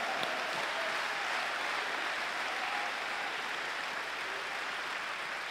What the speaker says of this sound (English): Oh, Jesus, let's give the Lord a clap of praise tonight